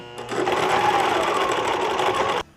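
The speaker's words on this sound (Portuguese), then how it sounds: "Vou passar uma costura de cada lado para poder segurar bem." Sewing machine running fast as it stitches a pocket on a cargo mini skirt, one loud continuous burst of rapid needle chatter that stops abruptly.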